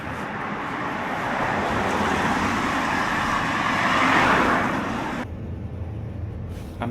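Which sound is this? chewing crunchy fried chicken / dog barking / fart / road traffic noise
road traffic noise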